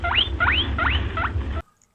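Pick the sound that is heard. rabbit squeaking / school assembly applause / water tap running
rabbit squeaking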